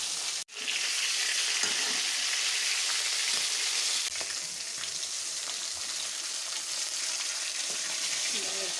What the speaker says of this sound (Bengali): এখানে কই মাছ, শিং মাছ আছে, এগুলো হালকা ভাজি করে